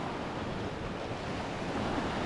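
Sea waves wash onto the beach at Adler in Sochi on a day of murky, calm water, a steady, soft broadband rush with wind noise on the microphone and no voices.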